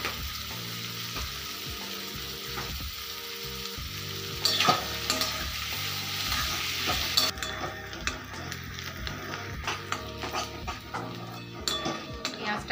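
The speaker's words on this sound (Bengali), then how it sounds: "পেঁয়াজটাকে হালকা বাদামি কালার যতক্ষণ না হবে ততক্ষণ নেড়ে নেড়ে ভেজে নিতে হবে।" Onions with a little sugar stirred and fried in a pan until light brown, a steady close sizzle with scraping stir strokes and clatter, a dog audible at times.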